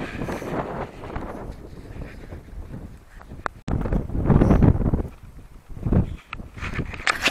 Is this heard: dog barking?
no